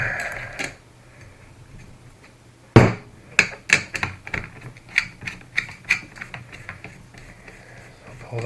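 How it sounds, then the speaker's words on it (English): A wrench works a spark plug loose from a pull-start RC engine, giving a close series of crisp ratcheting clicks and taps after a sharp initial knock, irregular but steady, with faint background noise between. "so let's get the spark plug off"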